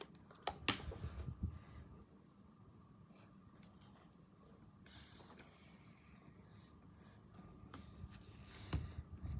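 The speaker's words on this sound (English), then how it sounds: "Now type your password." Faint, sparse keystrokes on a Mac computer keyboard as a password is entered, a few soft clicks at the start and end over quiet room hiss.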